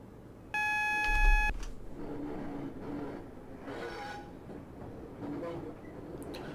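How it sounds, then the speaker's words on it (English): A Class 142 train in Train Simulator with a sharp electronic beep tone at the start, followed by a low rumbling engine and rail noise as the train creeps forward, steady and moderately quiet. "Just going to notch 1 of power just to bring the train forward slightly."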